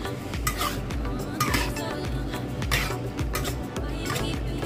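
A spoon working cream style corn with cooked chicken and carrots around a pan, making a steady, rhythmic scraping and clatter that repeats about twice a second, close and fairly loud.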